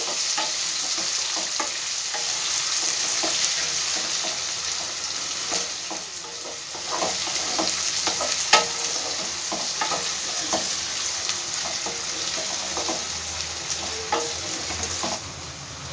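Two grated onions frying in a pan, a continuous sizzle with frequent spatula scrapes and taps from stirring, steady and close throughout with no speech.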